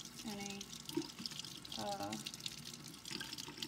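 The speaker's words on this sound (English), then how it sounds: "So then I rinse them. I rinse the brine shrimp off to get off" Water runs from a tap as brine shrimp are rinsed, a soft trickling splash with a few drips, quiet and close, and a voice briefly heard over it.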